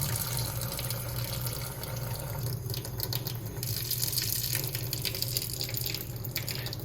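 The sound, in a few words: water poured into microwave egg poacher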